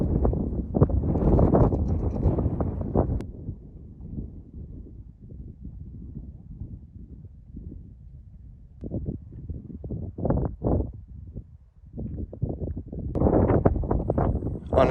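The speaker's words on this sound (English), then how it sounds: "It's so windy" Gusty wind buffets the microphone in rough, rumbling waves at the Bodie ghost town in California, rising and falling over several seconds with a few sharper bursts.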